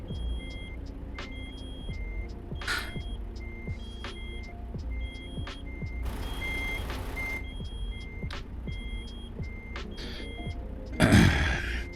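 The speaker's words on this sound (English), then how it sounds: "now I have to sit here listening to the beeping sound for who knows how long" Low air brake warning in American Truck Simulator: a steady, regular beeping repeats throughout over a low idling truck engine hum, with a brief louder burst of noise near the end.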